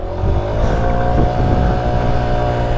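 Tao Tao 50cc scooter with no clutch being ridden, its small engine droning steadily and loud at close range, with no talking.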